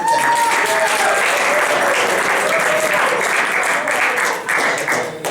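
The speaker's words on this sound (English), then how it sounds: "I wish you would all please applaud yourselves for being here today" A crowd at a 2014 SAAGNY board installation and Hall of Fame induction applauds loudly and continuously, with a few voices or cheers mixed into the clapping.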